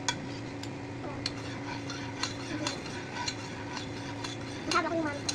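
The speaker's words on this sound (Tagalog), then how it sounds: "Mix. Hanggang ma-dissolve." Gulaman mixture being stirred in a pot until dissolved, with repeated light clinks and scrapes of a spoon against the pot over a low steady background hum.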